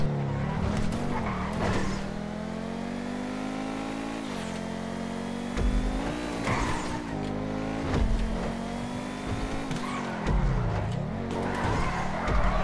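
Race cars in a GTA 5 custom race roar and rev continuously, engines climbing and dropping in pitch with tire skids, loud and close, with no talking over them.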